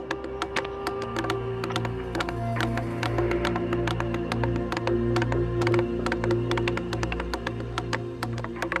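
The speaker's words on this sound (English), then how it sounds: "If there's one sound you hear in Tonga, it's the sound of tutu ngatu." Tapa bark cloth being beaten by hand in Tonga for tutu ngatu, with steady, close, rapid mallet knocks repeating evenly against a low, continuous hum, and no talk.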